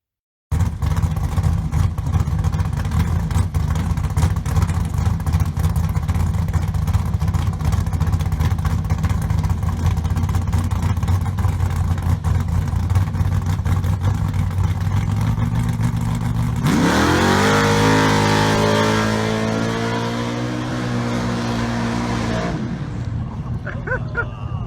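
An old drag race car with a cracked engine block rumbles loudly and steadily at idle, then revs up sharply near the end as its pitch climbs and falls, the close engine noise filling the whole clip.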